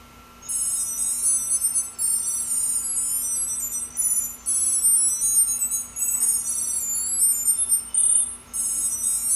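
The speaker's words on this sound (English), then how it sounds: "And it just keeps ringing until you find it and turn it off." A Tile Sticker tracker rings after being triggered from a phone app, a steady run of high, repeating electronic chimes that keeps going with only brief gaps, alone over a faint hum.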